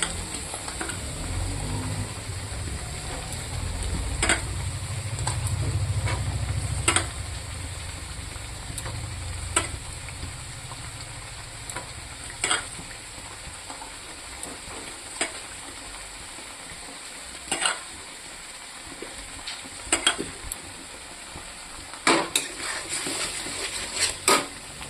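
Peas stir-fried in a pan with a little salt, a soft steady sizzle, loudest early on, with scattered sharp scrapes and taps of a spatula against the pan, close and without speech.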